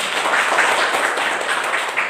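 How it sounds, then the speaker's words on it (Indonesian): Classroom applause for students who finished a chemistry answer, dense steady clapping from many hands filling the room without a break. "Tepuk tangan untuk yang sudah."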